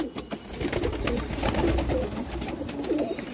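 Pairs of pigeons in a Moradabad breeding loft coo steadily, several low rolling calls overlapping close by over a few seconds, with no talking.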